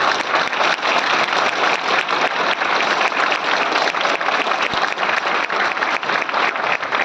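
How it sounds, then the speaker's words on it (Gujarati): Audience applause at an Ayurvedic seminar, a dense, loud, steady wash of many hands clapping that continues without a break and with no talk over it. "આ તાળી ભાઈ સાહેબ માટે"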